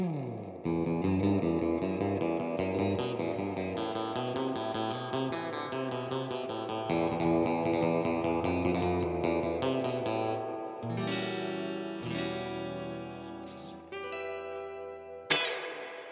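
Guild Surfliner HH electric guitar played through its split bridge coil with surf-style effects, a thinned tone with chorus, echo and reverb. Continuous melodic picking and chords ring loud and close for the whole span, ending on a sharp accent.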